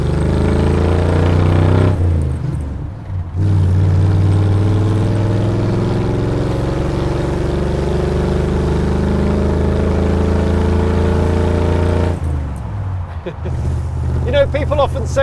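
V8 engine of the Mad Max Last of the V8 Interceptors movie car rumbling loudly from inside as it drives, with a deep steady drone, rising revs around gear changes near the start and end, and no speech over it.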